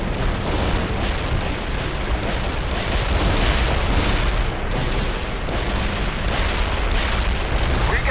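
Artillery fire in the war strategy game The Third World War, a dense run of repeated heavy booms and blasts with rumbling low end, loud and continuous with little pause between impacts.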